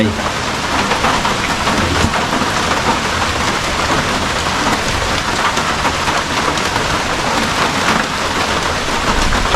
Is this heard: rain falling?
yes